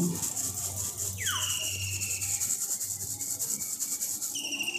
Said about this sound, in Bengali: এরকম একটা চালনার সাহায্যে আমি এটাকে চেলে এনেছি, দিয়ে যা নোংরাগুলোকে বার করে দিচ্ছি